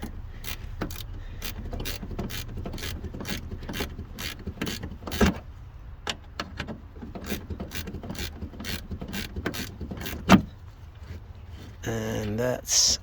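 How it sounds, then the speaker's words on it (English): A ratchet wrench backs out a 10mm rear bumper bolt on a Toyota Prius with rapid, evenly spaced clicks, close and steady, then a brief louder rattling burst near the end. "First, we start by removing the 10mm bolt that's here on both sides."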